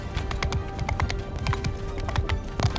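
Horse hooves clip-clop in a quick, steady rhythm as a rider travels on horseback in Mount & Blade II: Bannerlord, close and clear with no voices.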